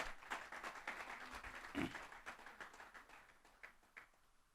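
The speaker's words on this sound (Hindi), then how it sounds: "जो करने वाले अपने घर पे, वो एक बार जबरदस्त ताली बजा दीजिए" An audience at a motivational talk on team speed claps in a scattered round of applause, quiet and somewhat distant, with irregular hand claps fading toward the end.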